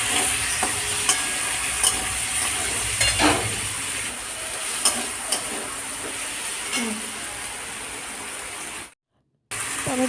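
Chopped tomatoes stirred into a frying pan while cooking kabuli chickpea ghugni, a steady sizzle broken by scattered spoon scrapes and clinks, ending in a brief cut to silence.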